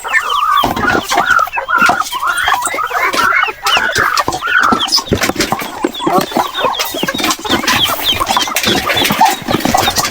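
A cage full of Pekin ducks, about fifty-two birds, makes a busy, continuous chorus of overlapping calls and chatter, loud and close throughout.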